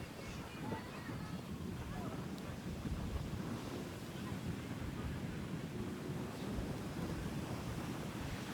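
Surf rolling onto a Goa beach during monsoon days, a continuous low roar of waves mixed with gusty wind buffeting the microphone, steady and fairly loud throughout with faint voices nearby.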